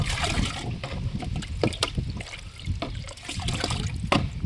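Jaggery is stirred into water by hand, giving soft, irregular sloshing and splashing with small liquid clicks, close and fairly quiet.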